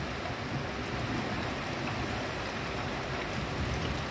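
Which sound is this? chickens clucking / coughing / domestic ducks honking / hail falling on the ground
hail falling on the ground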